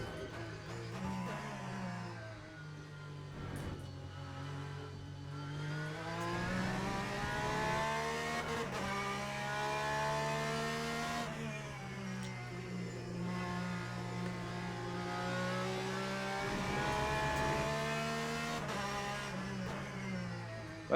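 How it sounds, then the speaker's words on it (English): LMGTE race car engine at Monza in the sim racing game Le Mans Ultimate, a loud sustained drone climbing through the gears with repeated upshifts and brief lifts under braking, continuous for about twenty seconds. "I really enjoy driving in Monza, also on Le Mans Ultimate"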